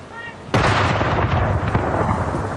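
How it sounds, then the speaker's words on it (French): A cannon fires a ceremonial salute in the United Kingdom: a sudden loud boom strikes after a quiet moment, followed by a long, rolling, reverberant rumble. "Il est 16h, des coups de canon retentissent."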